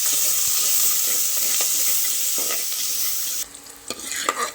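Onions, a sprig of curry leaves and three green chillies are sautéed in oil for channa masala. A loud, close sizzle hisses steadily, then drops suddenly near the end, with a few spoon scrapes and stirring clatters toward the finish.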